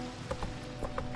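Hoofbeats of Roach, the horse in The Witcher 3: Wild Hunt, a quick rhythmic clip-clop at a gallop, close and steady over a low ambient game bed.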